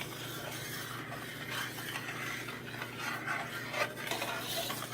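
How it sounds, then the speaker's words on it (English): Cajun chicken and shrimp pasta sauce being stirred in a pot, a faint steady scraping and swishing of a utensil against the pot, close and quiet with no talking. "The sauce is seasoned. Of course, stir."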